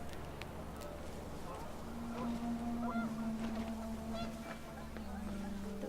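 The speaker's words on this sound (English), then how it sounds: "The wind picked up and panicked geese appeared and quickly went." Geese in What Remains of Edith Finch give a short burst of honks and flap away as the wind rises, the calls mid-distance over a steady ambient bed with faint talk.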